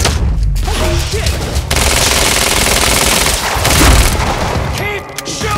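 Loud bursts of gunfire and heavy booms in the Quantum Break game, rapid shots stacked over thudding impacts, near and sustained with brief lulls, a voice faintly mixed in underneath.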